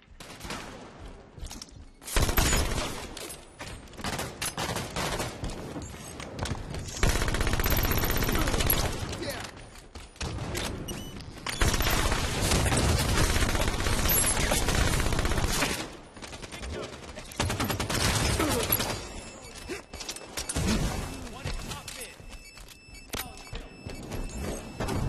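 SMG gunfire in the video game Halo 5: Guardians, loud bursts of rapid automatic fire in several long stretches separated by short pauses, with a player occasionally talking over it.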